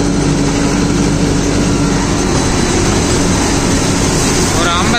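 A tractor engine holds around 1500 rpm while driving a rotavator, giving a loud, dense, unbroken mechanical roar with a low rumbling drone that stays constant throughout.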